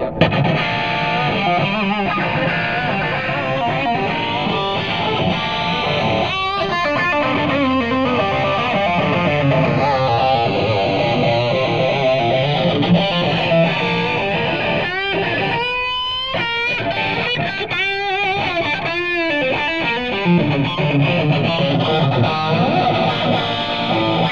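A loud, heavily distorted electric guitar, boosted into a Marshall tube amp, plays dense chords and riffs continuously, thick and saturated with gain, with no voices.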